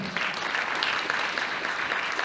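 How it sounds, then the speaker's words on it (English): An audience applauds at a college welcome speech, a dense, steady wash of many hands clapping at even loudness throughout, with no voices standing out. "clap it up for yourselves, clap it up for yourselves"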